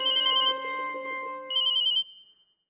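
A phone rings with a repeating electronic ringtone, two bursts of tonal chiming that stop abruptly, clear and close with no talking over it.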